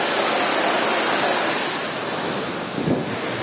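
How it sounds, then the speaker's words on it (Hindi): Lawapani waterfall in Jharkhand roars with a steady, dense rush of falling water, loud and close throughout with no voices. "भगवान ने बड़े फुर्सत में इस वाटरफॉल को बनाया"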